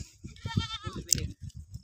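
A milk goat bleats in short quavering cries, close and fairly faint, with a brief shuffle of livestock noise around it.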